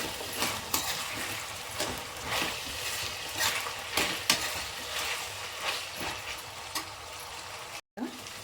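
Potato kurma with onions being stirred in a frying pan: a steady soft sizzle with repeated scraping strokes of a spoon against the pan, at a moderate even level, with a brief dropout near the end.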